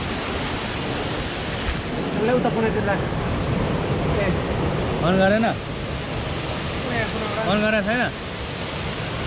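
Baspani waterfall in a natural setting gives a steady broadband roar of falling water throughout, with people talking over it in Nepali.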